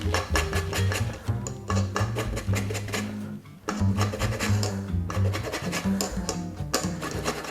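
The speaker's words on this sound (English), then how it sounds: "Now I'm supposed to whisk in the lemon and orange zest." A whisk rasps and scrapes steadily in a bowl as lemon and orange zest is worked into a cake batter, brisk repeated strokes close up with one short pause midway.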